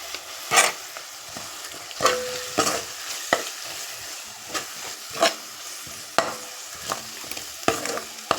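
Masala with chili powder and salt frying in oil for a fish curry, a soft continuous sizzle broken by sharp intermittent scrapes and taps of a spoon against the pan, close by and without voices.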